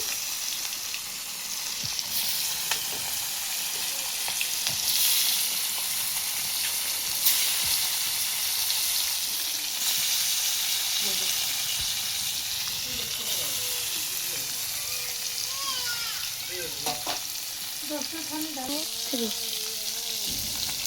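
Fish frying in hot oil, a long continuous sizzle and spatter close by, with occasional stirring knocks and a few brief voices late on.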